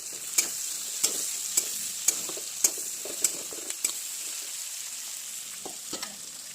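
Thick-cut capsicum pieces stir-frying in a pan for chilli chicken: a steady soft sizzle broken by sharp spatula clacks about twice a second, then sparser toward the end.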